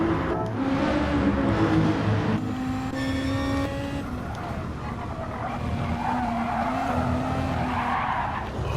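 A race car skids through oversteer at Brands Hatch in a racing video game, its tires squealing over a loud, continuous engine drone that rises and shifts in pitch as the car slides and recovers.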